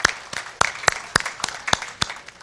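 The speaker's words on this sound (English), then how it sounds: "And you should get a round of applause for that right off the bat." Audience applause at a public forum on segregation in Richmond, a steady patter of many hands clapping with sharp individual claps standing out, moderately loud and continuous without talk.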